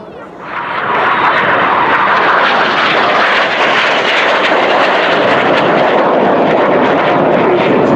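RAF display team jets at full power as they fan out in a vertical break at the 2018 Cosford Air Show, a loud, close, unbroken engine roar that swells in the first second and then holds steady.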